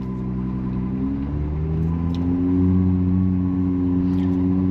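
2025 Ferrari 296 GTB setting off in first gear, its engine note climbing smoothly in pitch as it pulls away, a steady nearby hum with rising harmonic tones and no talking.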